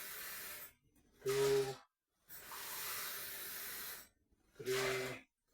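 Water poured onto rice for chicken biryani before microwaving, measured cup by cup: three separate rushing, splashing pours with brief pauses between them, the middle pour the longest, close and fairly loud.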